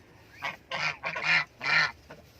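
A goose arranging its nest gives a few short, close honking calls in quick bursts, with soft rustling between them and no speech.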